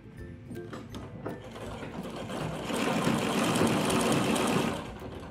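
A sewing machine runs a long gathering stitch along a dress sleeve, its fast mechanical whirring and needle clatter close and continuous, rising louder in the middle and easing off at the end.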